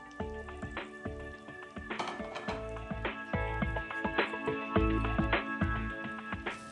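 Pieces of food fry in hot oil with a close, crackling sizzle and irregular pops and bubbling, alongside a few clinks from the pan.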